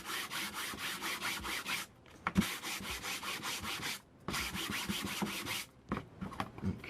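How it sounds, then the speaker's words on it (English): Sandpaper of 220 grit rubs rhythmically across a gessoed painting surface, quick repeated back-and-forth scratchy strokes in bursts separated by short pauses, close and fairly quiet. "And then I take some 220 grit sandpaper."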